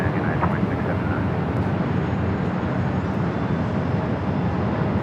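A United airliner lands on runway 24 right at Los Angeles International Airport, giving a loud, steady jet roar that holds evenly throughout, with faint voices partly over it.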